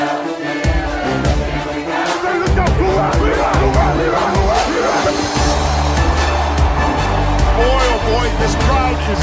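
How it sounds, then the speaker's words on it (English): A loud stadium crowd roars and cheers after a Pittsburgh Steelers touchdown against the Ravens, a dense, sustained wall of noise with broadband swells running the whole time. "This crowd is alive."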